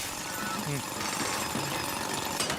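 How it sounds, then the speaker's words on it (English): A robot drills in the Splatoon Raiders video game, making a constant buzzing, rattling grind with a few mechanical whirs and blips over it, dense and steady for the whole short stretch. "you can go ahead and use the bot to drill"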